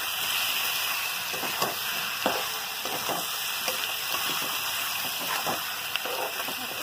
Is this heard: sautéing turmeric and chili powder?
yes